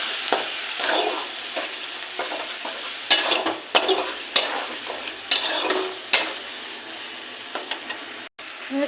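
Fish frying and being stirred in a pan with turmeric, salt and chili powder: a steady close sizzle broken by repeated scraping and stirring strokes, with no voices.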